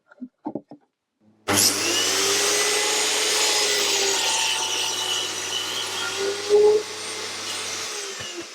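Small pieces of wood being cut with a power tool for a bug hotel, a steady close whirring drone running for several seconds after a few brief knocks, then stopping.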